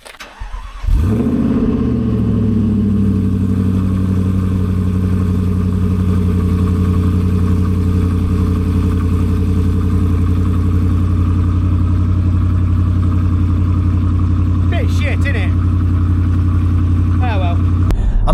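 Stage 3 V8 Jaguar XFR cranking and firing up, then settling into a loud, deep, steady idle that fills the whole stretch, with faint brief sounds late on over the rumble.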